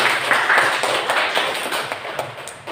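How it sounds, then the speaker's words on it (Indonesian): A classroom group claps for a few seconds, scattered hand claps that thin out and taper toward the end, with faint voices. "Tepuk tangan buat kita semua"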